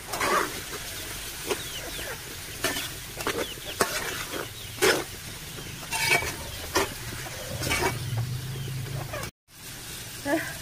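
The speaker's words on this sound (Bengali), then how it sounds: "এবার আমি মাছগুলো দিয়ে দিয়ে পেঁয়াজের সাথে আরেকটু কষিয়ে নিই" Giant freshwater prawns sautéed with new onions in a pan: a low, steady sizzle with repeated scraping stirs at irregular intervals, close and moderately loud, with a brief dropout near the end.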